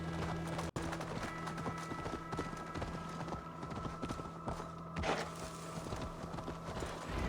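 Rhythmic clip-clop of horse hooves amid a busy Assassin's Creed Valhalla game soundscape, with a sharp click early on and steady background hum.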